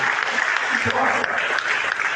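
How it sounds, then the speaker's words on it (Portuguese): Congregation applauding during a church sermon, a dense steady clapping that fills the whole moment at fairly close range with no talk over it. "Você pode dar um aplauso, Jesus, por isso?"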